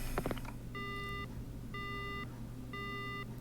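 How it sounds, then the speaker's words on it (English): A phone line going dead in the horror game Death Mark: three evenly spaced electronic beeps, clear and steady, over a low hum after a brief crackle. "The phone goes dead."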